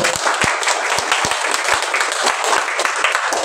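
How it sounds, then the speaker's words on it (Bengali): Indoor audience at a training seminar applauding, dense steady clapping from many hands close by, continuous and loud throughout. "একটা হাততালি ভালো করে"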